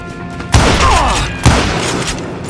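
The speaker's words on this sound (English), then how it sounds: "Robert Ollinger appeared with his terrible double-barrel shotgun." Two loud, heavy blasts from a double-barrel shotgun in Call of Juarez: Gunslinger, about a second apart, each with a booming thud and a lingering echoing tail.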